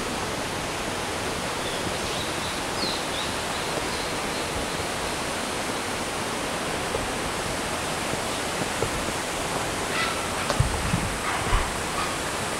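Kani no Taki, a smaller waterfall among the Kawazu Seven Falls, pours in a dense, unbroken roar of falling water that stays even and loud throughout, with a few faint knocks near the end.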